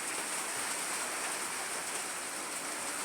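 Steady rain falls on a rainy day, a continuous even wash of drops at a constant moderate level with no voices or other sounds.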